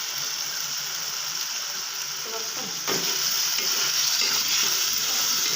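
Potatoes stirred and frying in a pan: a steady, close sizzle and hiss that jumps louder midway as the pan is stirred, with soft scraping underneath.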